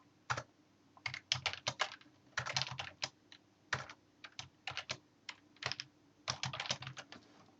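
A computer keyboard typed on in quick, irregular clusters of close clicks, with short pauses between bursts and no talk.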